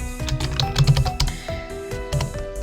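Names are typed on a computer keyboard in quick irregular clusters of close, crisp key taps, with brief pauses between bursts.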